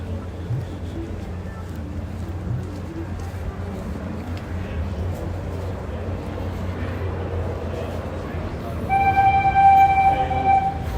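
The Animal Kingdom train rumbles steadily for a long stretch under a busy park murmur, then a loud, bright whistle tone sounds near the end.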